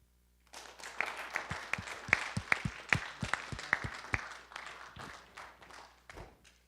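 A lecture audience claps after a talk on political and religious authority, a modest, fairly sparse round of distinct hand claps that starts abruptly, peaks, then thins out and fades, heard at moderate distance in a quiet hall.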